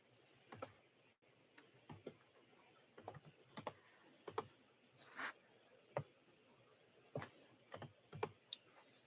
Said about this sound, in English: I don't know if you guys can hear me typing or not.